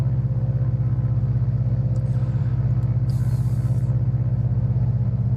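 Grumbling, uneven radial piston engine of an F4F Wildcat in Microsoft Flight Simulator, a steady loud drone held throughout a right-hand turn with a brief higher whine partway.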